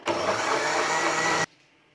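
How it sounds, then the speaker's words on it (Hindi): A blender whirs loudly as it blends watermelon juice with black salt, a steady, close roar that cuts off abruptly after about a second and a half into near silence. "हाफ़ टी स्पून जो है हम इसमें काला नमक शामिल करेंगे और इसको फिर दोबारा से ब्लेंड करेंगे"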